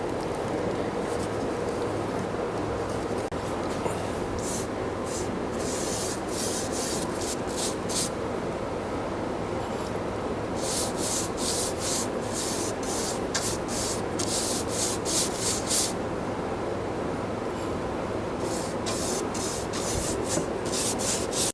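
Oak stain is rubbed onto an oak wooden box with a steady, dense rubbing hiss, marked by rhythmic stroke bursts that come in groups with short pauses, close and continuous.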